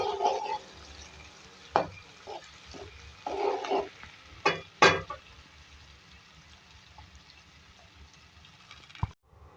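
Onions soften in oil in a karahi for beef karahi gosht, with a low frying hiss running throughout. A spoon scrapes and clacks against the pan in several brief bursts, and one sharp knock comes near the end.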